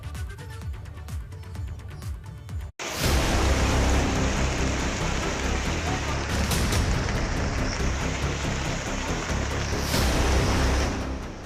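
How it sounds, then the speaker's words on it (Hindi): A swollen, once-dry river in Haldwani rushes in flood during monsoon rains, a loud, dense and continuous roar that starts abruptly after a brief quieter moment and stays steady. "मानसून सीजन आते ही हल्द्वानी में सूखी नदी उफान पर बहने लगी है"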